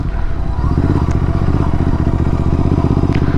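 A Royal Enfield Interceptor GT 650 rides off-road over sandy dirt, its steady engine rumble loud and close throughout, with some clatter from the rough ground.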